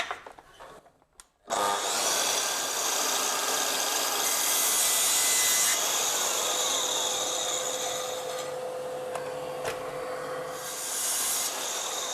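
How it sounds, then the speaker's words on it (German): Wood is cut with a saw for a coat rack: a loud, close, sustained buzzing cut runs almost unbroken after a brief start, with no talking. "damit der immer gleich gesägt ist, dass ich die hier anschlagen kann, sägen kann und das nächste machen kann"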